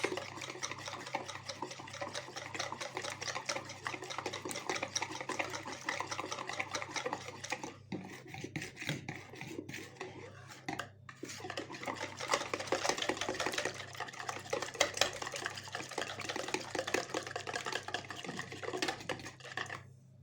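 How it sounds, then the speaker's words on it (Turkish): Baklava dough ingredients with lemon juice and baking powder being whisked in a bowl, a steady rapid scraping and clicking rhythm that runs close and continuous, with a short pause partway through. "ve kabartma tozunu koyuyoruz. Hepsini güzelce çırpıyoruz."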